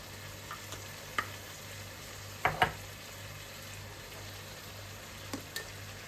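Chicken chops fry in a pan on the stovetop with a steady, quiet sizzle, broken by a few sharp pops and crackles.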